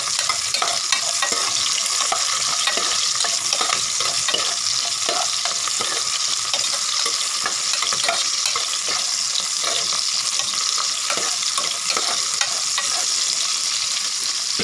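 Onions and spices for sambar rice sauté in a pan, a loud steady sizzle punctuated by rhythmic scraping and clacking strokes of a spoon stirring, close and continuous.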